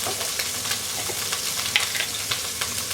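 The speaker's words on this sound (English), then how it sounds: "I've got my onions. I'm just going to let that brown up a little bit." Onions fry and brown in a pan for a tuna bake, a steady close sizzle with crackling pops and occasional stirring scrapes, with no talking.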